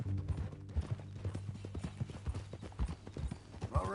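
Hooves clip-clop in a quick, steady rhythm as a horse walks in Red Dead Redemption 2, close and prominent over a low background rumble, with no voices.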